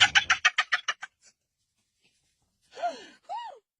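A chicken or rooster calls in a short run of rapid clucks, then two rising-and-falling squawks after a pause, close and fairly clear.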